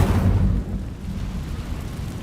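A fire spell bursts out in a video game, a loud low rumbling whoosh that surges at the start and then settles into a steady crackling roar with no talk over it.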